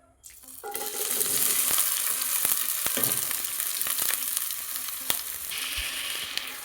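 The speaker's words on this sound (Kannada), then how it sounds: "ಇದಕ್ಕೆ ಇವಾಗ ಎಣ್ಣೆ ಬಿಸಿ ಆಗ್ತಿದ್ದಂಗೆ ಈರುಳ್ಳಿನ ಆ್ಯಡ್ ಮಾಡ್ತಿದ್ದೀನಿ." Chopped onions hit hot oil in a pan and break into a loud, close sizzle that holds steady, with occasional clinks and stirring scrapes over the frying and no voices.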